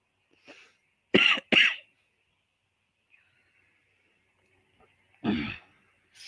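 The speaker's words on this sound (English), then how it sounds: "I guess whenever you start talking, you want to start coughing again." A few sharp coughs close by, two quick bursts followed by a pause and then one more cough, with quiet breathing in between.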